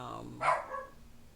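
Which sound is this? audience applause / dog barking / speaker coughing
dog barking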